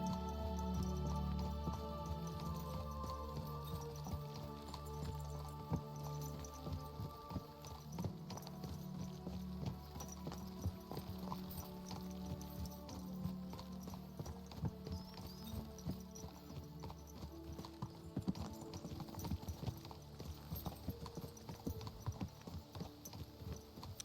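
Horse hooves clip-clop steadily in Kingdom Come Deliverance II, a continuous rhythmic plodding set against a dense bed of game music throughout.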